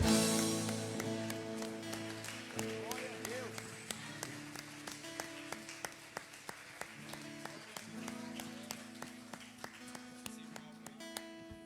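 Church congregation claps in a regular rhythmic beat alongside sustained organ or keyboard chords, the claps sharp and evenly spaced throughout, fairly quiet overall, as in clapping along to worship music.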